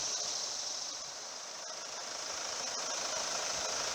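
Steady idle of a 2016 Mercedes-Benz E250 BlueTEC 4MATIC with its 2.1-liter twin-turbo diesel, a constant even hum heard near the engine bay with no talking.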